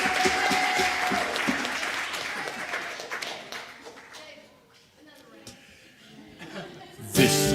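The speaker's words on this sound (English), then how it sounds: "Please give them a round of applause." Audience applause for costumed children at a church Epiphany pageant, fairly quiet clapping mixed with light laughter and murmuring that fades down midway, then a brief louder burst near the end.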